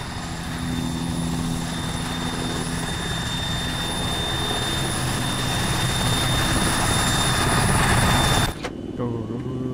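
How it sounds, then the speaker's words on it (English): A helicopter in the video game Arma 3 drones with a steady, loud rotor and engine roar that fills the scene, then cuts off abruptly near the end. "Oh, there's another helicopter."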